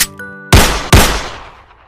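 Two loud, sharp pistol shots ring out in quick succession, each with a short fading tail, after a brief musical jingle.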